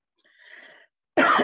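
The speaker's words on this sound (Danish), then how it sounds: "Undskyld, jeg lige hoster så meget." A person coughs hard several times in a quick burst after a faint, muffled cough-like sound, recorded close and loud during a spoken presentation.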